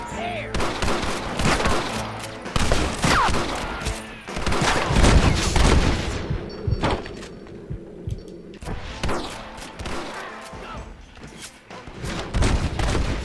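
Heavy gunfire in a Red Dead Redemption shootout against snipers in windows, with dense bursts of rifle and pistol shots and booming impacts rolling continuously, loud and close throughout.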